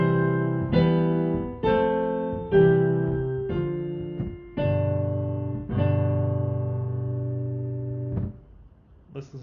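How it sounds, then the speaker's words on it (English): A chord progression that closes on a half cadence, unresolved, played as a sequence of sustained harmonic chords with clear attacks, about eight changes with a longer held chord near the end, loud and alone with no talking. "What if we end the chord progression with a half cadence?"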